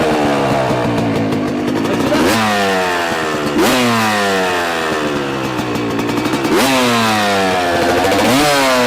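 A cold dirt bike engine is kick-started and revved, the motor climbing and falling in pitch across three loud surges with steady mechanical clatter throughout.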